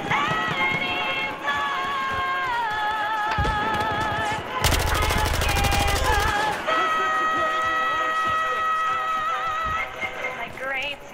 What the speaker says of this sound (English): Oh god, I'm being sniped like crazy right now.